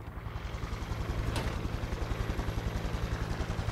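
A helicopter in the video game Cyberpunk 2077 thrums with a fast, even rotor pulse, steady and close, with a brief whoosh partway through and no talking.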